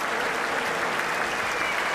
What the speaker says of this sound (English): lots of crowd support for this athlete